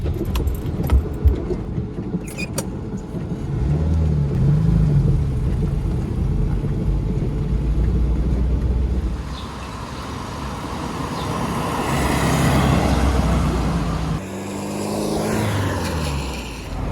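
A 1974 Audi 100 Coupé S setting off on a rainy New Zealand road, a steady close engine and road rumble with tyre hiss that dips briefly mid-way and then builds again, no voices.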